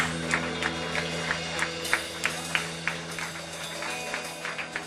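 A church congregation claps in praise of God, a steady moderate applause with scattered sharper individual claps rising out of it, alongside a sustained low hum, no speech heard.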